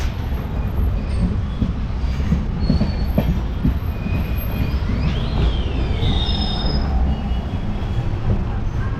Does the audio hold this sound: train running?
yes